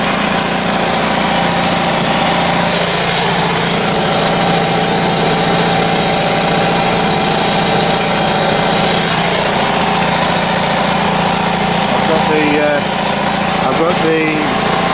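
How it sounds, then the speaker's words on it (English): The motor of a Foxhunter 3hp 90 litre air compressor runs loud and close, a continuous mechanical drone feeding an air tool, with a few faint higher chirps near the end. "with the motor running, the compressor can sustain 6 bars using the descaler"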